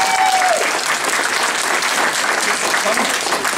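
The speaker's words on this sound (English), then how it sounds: "So give him another round of applause." A Duval County women's gathering in Florida breaks into dense, steady audience applause, loud and continuous throughout with a faint voice at the very start.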